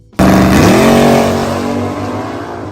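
A 1963 Dodge Polara with a 426 Max Wedge V8 barks to life and revs hard, a loud, close, sustained roar that rises quickly and then holds steady as it slowly eases off.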